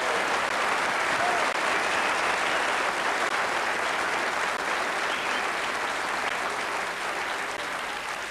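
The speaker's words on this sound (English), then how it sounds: "A round of applause for Malcolm Allison." A theatre audience at a 1993 stage show applauds Malcolm Allison, producing dense, sustained clapping across the room that stays loud and even and fades only slightly at the end.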